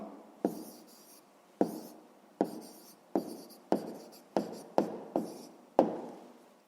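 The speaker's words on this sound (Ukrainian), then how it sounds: "Записуємо Франко." A pen writes an answer into a school math notebook, producing a series of about nine short scratchy strokes, each a quick attack fading out, close and quiet, with no talking.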